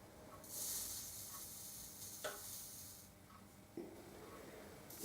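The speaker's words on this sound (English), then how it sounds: "You might be able to hear the water sizzling." Faint hiss and sizzle of water on a hot bending iron shaped like an irregular egg, used for bending guitar wood, rising and fading over a quiet background with a couple of soft knocks.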